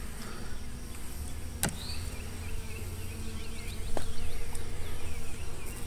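Steady insect buzzing fills the air, a dense hum of many honeybees close by around a hive, with a couple of sharp clicks and faint chirps in the background.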